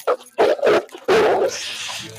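A dog barks and whimpers in short emotional bursts during a leash-training session, loud and close, with brief gaps between the outbursts and no talk over them.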